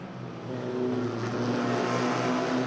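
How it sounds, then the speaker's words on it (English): A pack of small Formula First race cars roars past the start-finish line at Manfeild circuit, a steady, overlapping engine drone at mid distance with layered high-pitched tones and no voices. "3-way scrap as they cross the start-finish line now"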